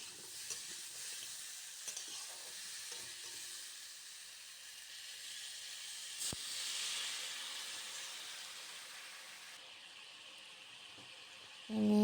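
Vegetables simmer in a pot of water with salt and turmeric, giving a soft, continuous bubbling hiss that holds steady at low level, with a few faint clinks and a louder knock at the very end.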